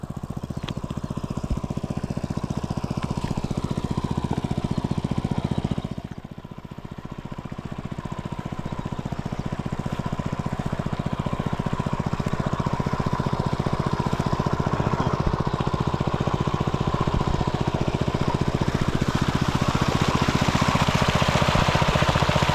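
A motorized irrigation water pump engine runs steadily and loudly without a break, with a brief dip in level partway through. No one speaks over it.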